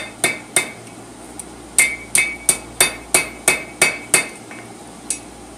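A blacksmith hammers a hot steel hook on the horn of an anvil, about a dozen sharp ringing metallic strikes in an even rhythm, close and loud, with a short pause after the first few blows.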